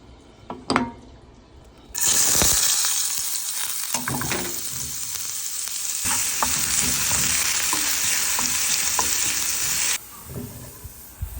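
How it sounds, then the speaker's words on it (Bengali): Chopped onion and garlic drop into hot oil for a tempering poured over mutton liver curry. A sudden loud hissing sizzle bursts out and holds steady for about eight seconds with stirring clatter, then cuts off abruptly. "এখন একটু বাগার দিয়ে দিব বাগারটা দিলে এর টেস্ট আরও বেড়ে যায় পেঁয়াজ কুচি আর রসুন কুচি দিয়ে"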